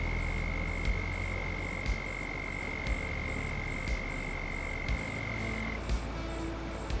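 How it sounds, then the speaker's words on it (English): Frogs croak in steady repeating pulses in Farming Simulator 25 with a critters mod, a regular chorus over a constant high tone and soft rural ambience. "Yeah, frog noises there,"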